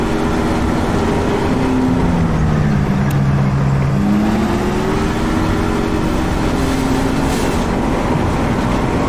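A military vehicle engine in Arma 3 drones loudly and steadily while driving, its pitch rising and falling slightly as the throttle shifts, close and continuous throughout with no talk.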